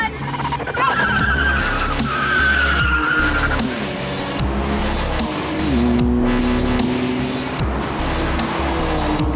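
Mustang and M4 race cars tearing away together with squealing, skidding tires and roaring engines, loud and close, their pitch sweeping up and down through most of the run.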